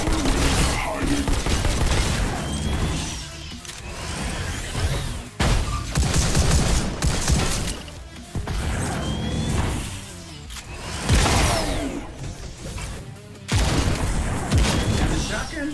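Shotgun blasts and other gunfire in the Trackher video game, with repeated loud booms and bursts amid game action, layered under speech.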